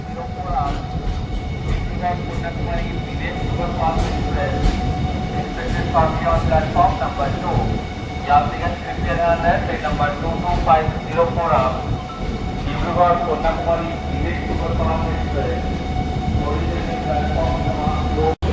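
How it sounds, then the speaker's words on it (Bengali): The Puri–Shalimar Garib Rath Express rumbles steadily along the rails, a constant loud drone with people talking over it. "সূর্যোদয়ের সাথে সাথে এক ঘন্টা দেরিতেই আমাদের ট্রেন ছুটে চলেছে নিজের গন্তব্যের দিকে"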